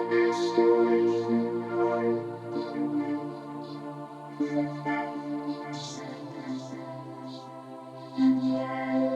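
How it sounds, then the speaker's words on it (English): A Yamaha MODX8+ synthesizer plays a vocoder and boys choir patch, sustained layered choral tones and soft chords shifting smoothly, steady and moderately loud with no talk. "the first one I called FLEUR-CODERCHOIR, which is a vocoder and choir patch."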